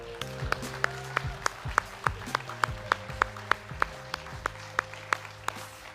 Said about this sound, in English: Thank you so much for being so generous with your applause